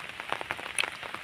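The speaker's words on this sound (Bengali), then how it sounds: "দেখতে পাচ্ছেন যে এখনো বৃষ্টি পড়তেছে।" Monsoon rain falls at a village river, a brief patter of drops striking the water and nearby surfaces, soft and steady.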